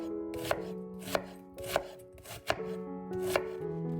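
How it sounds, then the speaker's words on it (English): Knife chopping a large onion on a board, five or six distinct close taps spaced roughly half a second apart, crisp and fairly quiet with no talking. "While it's heating, finely chop a large onion."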